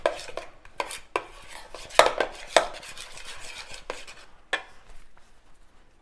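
Scraping and clinking of a utensil stirring baking soda into slime in a bowl, with irregular taps and knocks against the bowl's sides at close range.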